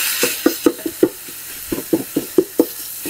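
A utensil stirs sausage and vegetables in a sizzling pot for tortellini soup. About a dozen close, knocking scrapes fall in an uneven rhythm over a low, steady sizzle.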